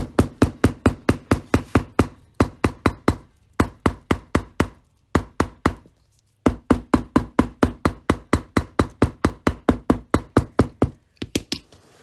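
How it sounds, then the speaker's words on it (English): A hammer strikes a leather braid laid on plate steel over and over in quick, even runs of sharp knocks, broken by short pauses, loud and close. "I'm going to put it on my plate steel, and I'm going to hammer this braid so it flattens it out a bit"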